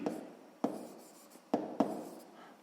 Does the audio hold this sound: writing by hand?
yes